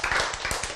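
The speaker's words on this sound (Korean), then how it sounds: "박수." A short burst of audience clapping during a Korean church sermon, several quick claps close together over under a second, loud and alone without talk.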